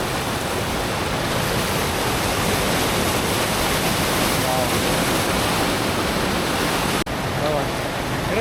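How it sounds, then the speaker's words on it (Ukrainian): Steady, loud rush of flowing water from a small mountain stream in a gorge on the Zugspitze, Germany, continuous and close, with a brief dip near the end. "Маленький ручейок."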